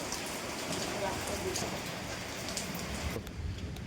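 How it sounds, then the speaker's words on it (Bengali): Heavy rain falls in a steady, dense roar close by, continuous and even, easing slightly near the end, with no clear talk over it. "আর এই যে এত বৃষ্টি, এখন কী করে যাবো?"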